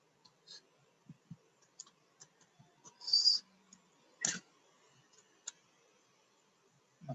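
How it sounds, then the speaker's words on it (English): Sparse keyboard clicks tap out a password one key at a time with irregular pauses, close and quiet, with a couple of louder clacks mixed in and no talking. "I'm typing a wrong password."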